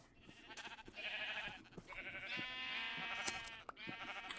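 Several Minecraft sheep bleat repeatedly and overlap, a steady run of wavering cries at moderate volume with no talking.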